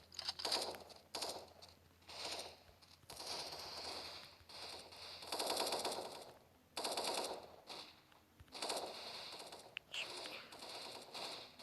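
Rapid automatic gunfire from a video game rattles out in repeated bursts separated by short pauses, loud and close throughout the stretch.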